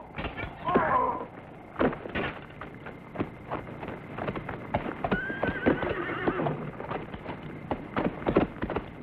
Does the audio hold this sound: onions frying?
no